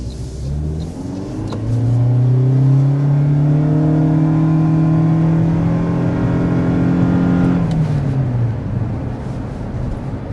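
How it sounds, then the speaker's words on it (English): A 2024 Toyota Prius XLE hybrid accelerates hard, its engine tone rising steadily in pitch for several seconds, then settling and fading as the car eases off. It is loud, close and continuous, with no talking over it. "we want to go ahead and show you a hard acceleration"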